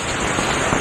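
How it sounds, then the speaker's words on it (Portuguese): Heavy rain from a storm pours down outside as a steady, dense hiss that fills the whole moment evenly, loud and unbroken, with no voices. "Esse ruído que nós estamos ouvindo é que está chovendo demais aqui no momento"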